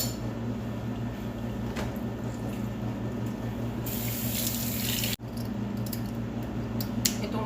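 Running tap water pours steadily into a kitchen sink while fish is washed, a continuous splashing stream with brief dips and small knocks, close and alone with no talk.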